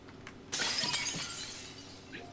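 A glass floor shatters in the video game Prey: a sudden loud crash of breaking glass followed by a sustained spray of tinkling shards that slowly fades.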